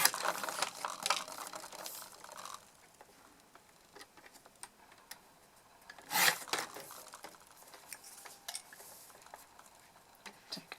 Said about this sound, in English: I'm just going to grab my trimmer, cut it down to size